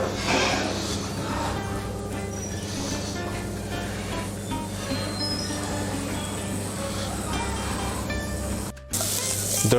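Guanciale frying in a pan over low flame gives off a steady, spraying hiss that runs unbroken at moderate volume with faint clatter underneath. It cuts out briefly near the end, and no one talks.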